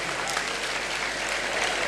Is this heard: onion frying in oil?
no